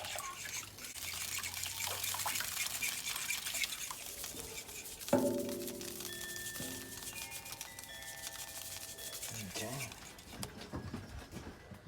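Milk pours into a pan of chicken fried steak gravy being stirred, with soft liquid splashing, scraping and a clink of cookware under a quiet kitchen background; people talk nearby.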